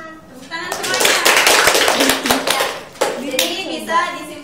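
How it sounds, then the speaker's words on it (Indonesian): A class of children clapping their hands together, a dense burst of sharp claps that swells, briefly dips and resumes, with some children's voices mixed in. "Tepuk tangan semuanya."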